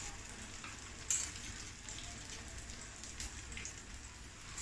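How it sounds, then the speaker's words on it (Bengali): Pieces of pointed gourd (potol) fry in oil in a pan, giving a steady crackling sizzle with scattered pops and spatters, fairly soft and close, with no voices. "সবগুলি এরকম করে সেম প্রসেসে আমি সবগুলি ফ্রাই করে নিব"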